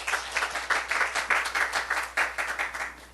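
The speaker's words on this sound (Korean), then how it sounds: "우리 하나님께 박수 올려드려요" A church congregation applauds during a Sunday service, a steady run of overlapping hand claps that swells and pulses in waves, fairly close and filling the room with no voice over it.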